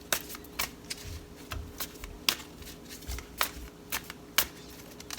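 Tarot cards shuffled and drawn by hand during a reading, a run of crisp riffling snaps and soft slides at irregular intervals, close and fairly quiet, with no talking.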